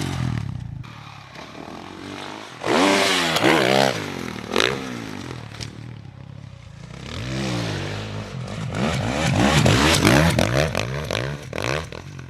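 A dirt bike engine revs and bogs in rapid surges as it skims through whoops on a supercross track, loud and fairly near, rising and falling with each bump.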